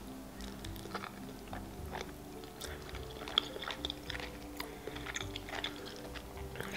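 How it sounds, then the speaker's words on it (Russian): A person eats an eel sushi roll at close range, giving soft wet chewing and small crunchy bites in an uneven rhythm over a low background hum. No one speaks. "Попробую лучше с угрём."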